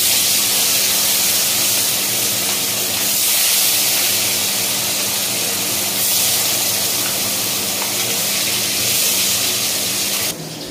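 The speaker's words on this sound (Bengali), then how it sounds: "মাছটা ভাজবো। আমি আগেই বলেছি আমি তেলের মধ্যে একটু হলুদ দিয়ে থাকি যাতে মাছটা তাড়াতাড়ি ভাজা হয়ে যায়" Pieces of katla fish fry in hot oil with turmeric for wedding-style home cooking, producing a loud, continuous close-up sizzle and hiss that barely changes throughout.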